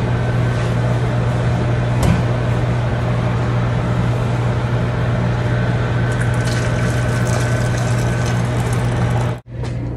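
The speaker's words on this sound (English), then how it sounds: "And we're going to pour this into our pan." Hot chicken broth pours steadily into a pan, a continuous liquid rush with a low steady hum beneath it, cutting off abruptly near the end.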